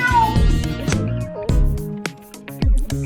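Several cats meowing in a series of short, loud, close calls with brief gaps between them, some rising and wavering in pitch, with no talking over them.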